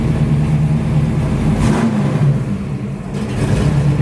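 A 1965 Plymouth Belvedere 426 Hemi super stock with a 472 cubic inch stroker engine idles close by with a deep, steady rumble, then blips the throttle once in a quick rev before settling back to a loud idle.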